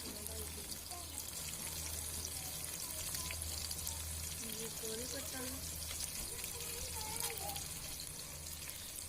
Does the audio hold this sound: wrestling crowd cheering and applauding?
no